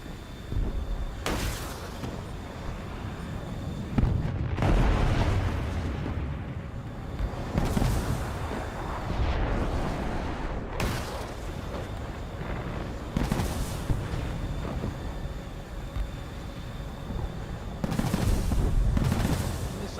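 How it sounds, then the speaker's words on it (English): Loud War Thunder combat with missiles streaking in and exploding around a BUK M3 air-defense vehicle: repeated heavy booms roughly every few seconds, with rumbling blasts and bursts of gunfire in between, close and continuous. "Missiles, missiles everywhere. Missiles."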